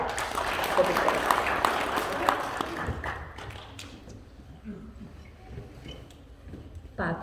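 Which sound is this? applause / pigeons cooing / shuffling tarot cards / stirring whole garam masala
applause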